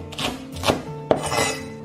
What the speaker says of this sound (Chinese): 准备1小节大葱切成小段